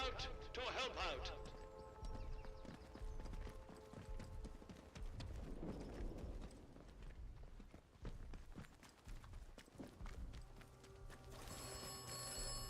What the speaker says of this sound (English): And the phone is ringing again.